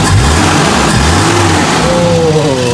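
The engine of a 1990s Toyota Kijang Super Astra runs loud and close, revving up and settling back in a steady rough drone.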